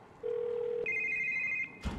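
An old-style telephone in The Evil Within rings in two steady electronic tones, a lower then a higher pitch, before a short thud; no one speaks.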